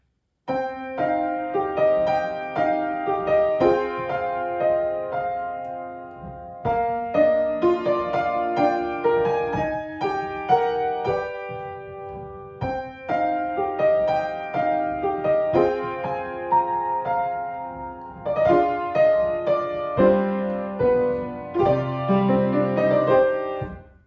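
Solo piano plays a steady chordal passage from an arrangement of a piece from Violet Evergarden in strict, even time with no rubato, phrases ending in brief pauses.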